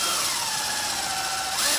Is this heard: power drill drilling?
yes